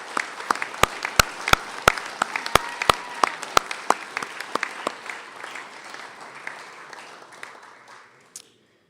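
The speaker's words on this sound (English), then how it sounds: "Can we have a round of applause for all these wonderful scholarships and our donors?" Audience applause at a school academic awards ceremony: steady clapping with several loud, sharp individual claps near the front, gradually thinning and fading to silence.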